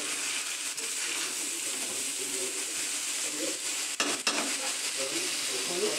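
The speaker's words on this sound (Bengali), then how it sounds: "হালকা করে ভেজে নিতে হবে একটু।" Whole spices and ingredients for pulao fry in hot ghee in a kadai, giving a continuous loud sizzle while a spoon scrapes and stirs close by, with a couple of sharper clinks partway through.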